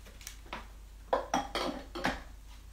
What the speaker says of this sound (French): on remet le mixeur en place